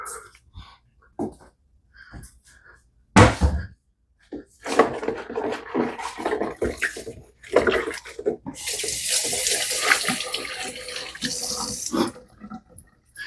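Clean tap water runs into a kitchen container while pork chops are prepared, a steady hissing pour for several seconds after scattered clatter and handling noises.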